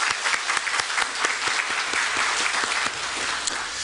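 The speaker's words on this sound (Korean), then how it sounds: "우리 하나님께 영광의 박수 올려드리시겠습니다" A church congregation applauds after a choir's hymn at a Sunday service, loud sustained clapping from many people, steady and close, with no talking over it.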